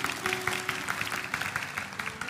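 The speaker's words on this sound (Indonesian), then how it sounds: "Berikan tepuk tangan untuk Tuhan, haleluya." A church congregation claps in praise, a fairly quick, rhythmic run of hand claps heard at moderate distance with a faint sustained tone underneath.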